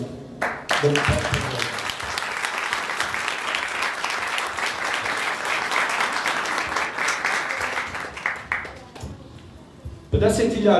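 A crowd at a political platform founding meeting bursts into loud, sustained applause that runs steadily for several seconds, then tapers off as a voice comes in at the end.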